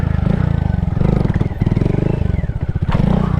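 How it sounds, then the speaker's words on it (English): A Honda Grom motorcycle dumps its clutch in first gear in a parking lot, its small engine chugging loudly and steadily, with a brief rev and some rattling throughout. "I might be able to do some slow first gear stuff if I just dump the clutch"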